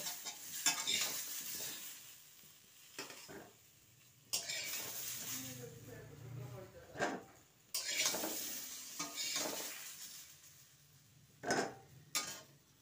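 Quiet sizzling of potatoes frying in oil in a kadai, with intermittent scraping and clinking of a utensil stirring, in irregular bursts.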